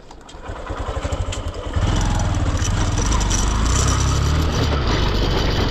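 A motorcycle carrying two riders on an off-road trail, its engine revving in uneven pulses before settling into a loud, steady drone close by, with no talking.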